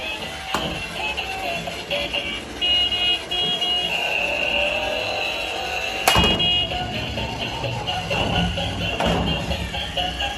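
A battery-powered toy spider car spinning on a floor, its small motor whirring and buzzing continuously with light clatter and a couple of sharp knocks, close by and without speech.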